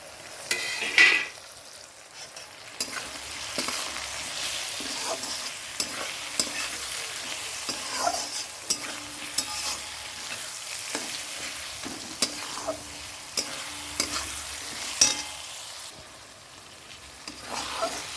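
Chopped tomato frying with whole spices in a pan for chicken, a continuous sizzle broken by repeated scraping stirs and occasional clinks of the spatula against the pan, no voices.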